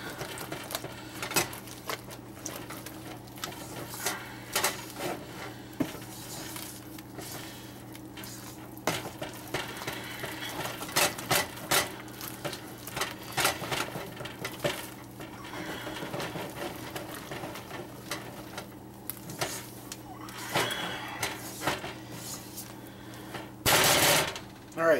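Thick fruitcake batter with eggs being mixed by hand, a long run of irregular sticky slaps, scrapes and clicks of the spoon against the bowl, close up, with a louder burst near the end.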